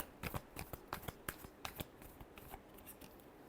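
Tarot cards are shuffled by hand in quick, crisp riffling bursts of papery slaps, fairly close and soft, tapering off toward the end.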